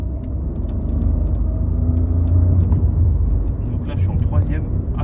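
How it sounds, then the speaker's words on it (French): A Renault Clio 4 Estate accelerates gently on a road, its engine giving a steady low rumble from inside the cabin while someone talks over it. "Je vais accélérer un petit peu."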